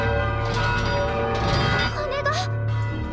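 An alarm bell rings in an anime set in a fantasy city during an outbreak of plague, its loud tolling mixed with orchestral music and voices.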